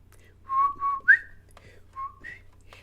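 A person whistles a short melodic phrase: a few clear sustained notes with a quick upward flick, a pause, then two more brief tones, close and distinct against a quiet background.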